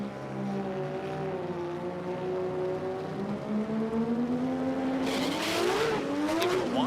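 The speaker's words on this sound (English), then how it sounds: "One spun off there. You don't see one do that too often in the big Holden." A big Holden drag car spinning off on a drag strip, the engine droning at high revs before pitching sharply up and down near the end with a burst of tyre squeal, loud and fairly distant.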